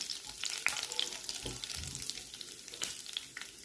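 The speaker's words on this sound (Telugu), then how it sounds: "ఇప్పుడు అందులో జీలకర్ర వేసుకొని కొంచెం వేయించుకోవాలి" Cumin seeds sizzling as they fry in hot ghee, a steady crackling hiss with a few sharper pops and stirring scrapes, close and moderately loud with no talk.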